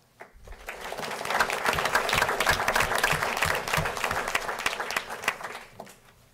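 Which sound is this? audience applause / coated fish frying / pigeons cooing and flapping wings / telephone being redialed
audience applause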